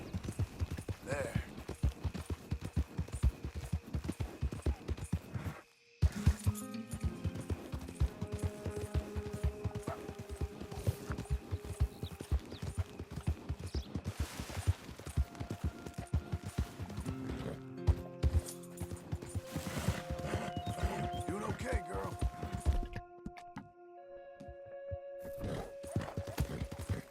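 A horse runs in the video game Red Dead Redemption II, with steady rhythmic hoofbeats and an occasional whinny throughout, along with game music, a brief drop-out and some talk.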